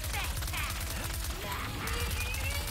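A broken gun in Ratchet & Clank: Rift Apart fires in rapid, rhythmic bursts of sci-fi shots over a low pulsing game score, steady and fairly quiet throughout.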